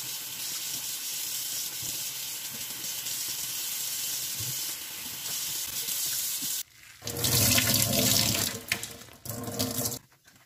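A household tap runs water for rinsing during an ASMR cleaning session, a steady hissing flow that swells louder and fuller in the second half, close and alone with no talk.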